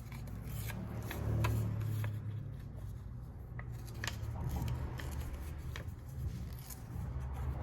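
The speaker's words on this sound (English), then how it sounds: "Let's tear it up." Paper postcard being torn up by hand, giving close rough ripping and rustling that comes in irregular bursts, fairly quiet and alone without talk.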